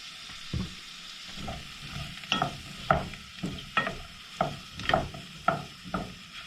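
Kielbasa sausage frying in a pan for sauerkraut and kielbasa, with a steady sizzle and a run of roughly ten sharp stirring scrapes and clacks spaced about half a second apart, close up and with no talking.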